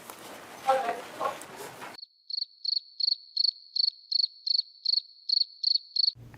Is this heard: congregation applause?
no